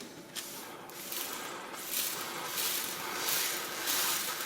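Close, hissing aerosol spray of lubricant into a Honda VN750 motorcycle cable in a few uneven bursts, fairly quiet, with faint handling noise.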